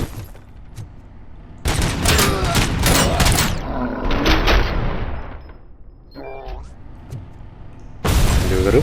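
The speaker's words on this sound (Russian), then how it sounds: "Взрыв, ага." An explosion in the video game RoboCop: Rogue City is heard as loud, dense bursts of blasts and gunfire, with game voices mixed in.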